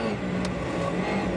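Volkswagen Polo rally car engine at WRC Rally Sweden 2013, holding a steady, loud drone on a snowy stage, with a brief hiss partway through and no voices.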